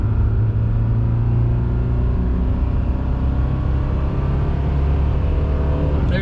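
A Mercedes 240 floored at full throttle, its engine droning steadily as the car pulls hard, a continuous loud low rumble that holds through the whole stretch with no speech over it.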